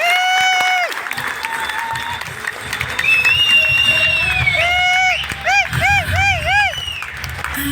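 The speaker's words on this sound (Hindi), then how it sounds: "मैं चाहूंगा मेरे दादाजी के लिए जोरदार ताली होनी चाहिए" An audience at a marketing gathering applauds loudly for a speaker's grandfather, the steady clapping mixed with high whistles and cheering voices that rise and fall throughout.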